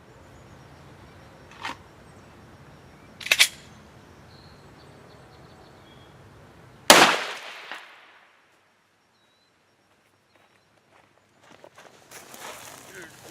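A 9mm pistol fires Speer Gold Dot 124 grain +P hollow points outdoors: one sharp, loud shot with a brief trailing echo, after two fainter earlier cracks, then near silence and some light rustling.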